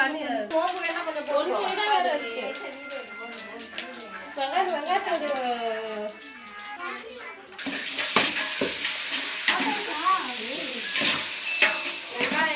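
Chicken gravy ingredients sauté in oil outdoors in pouring rain; people talk throughout, and about halfway through a loud broadband hissing sizzle surges up beneath their voices.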